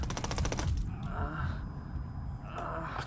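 A short burst of rapid automatic gunfire in Ghost Recon Wildlands, loud and close at the start, then fading to rumbling ambience with faint distant shots.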